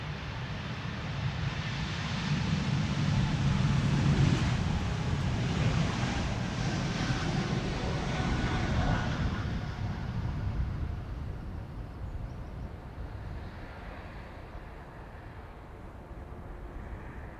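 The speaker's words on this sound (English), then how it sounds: "This is KLM flight 1139, E2 Embraer 195," A KLM Embraer 195 E2 jet departing from Amsterdam Schiphol produces a broad, moderately loud roar that builds early and then slowly fades into the distance, with wind rustle and no voices.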